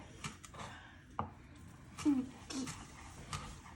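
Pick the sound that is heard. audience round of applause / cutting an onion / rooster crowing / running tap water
cutting an onion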